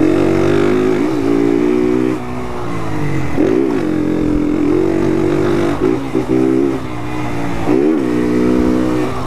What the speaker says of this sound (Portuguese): Tá encostando ali em uma reta ali pra ensinar pra vocês acelerando